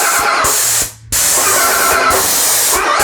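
A Graco 390 cordless airless paint sprayer sprays at maximum pressure, a loud, steady broadband hiss broken by one short pause about a second in and brief dips later, with no talk.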